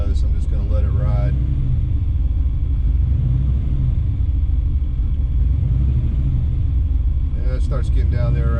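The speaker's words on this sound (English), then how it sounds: "I'm going to let it idle here just for a minute and see what it does" A Ford Capri fitted with 28-inch Racemaster tyres idles roughly with a steady, deep, close engine rumble, while a voice talks briefly at the start and again near the end.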